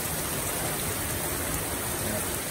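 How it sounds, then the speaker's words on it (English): Heavy rain pours steadily during a storm at a beach campsite, a dense continuous hiss of drops with wind mixed in, loud and unbroken throughout. "Massive storm on top of us."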